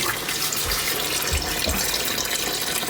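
Water pours steadily into a DIY vivarium tank water feature, a continuous close splashing rush with a few low gurgles, loud and unbroken throughout.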